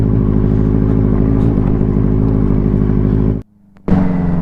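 A Benelli 600i motorcycle rides along a rough road with a steady, loud, close engine drone. Near the end the drone briefly cuts out, then returns.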